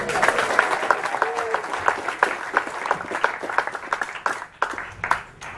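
Applause and scattered claps from the audience at a Dave Davies Q&A at Rough Trade East, loud distinct hand claps in an uneven rhythm, thinning toward the end, with some voices mixed in.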